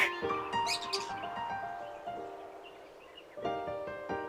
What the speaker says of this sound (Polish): Jest i ptak.